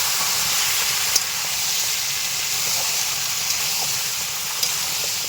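Taro leaves with a hilsa head sauté in a pan while releasing water, a steady hissing, steamy sizzle throughout with a few faint clicks, no voices.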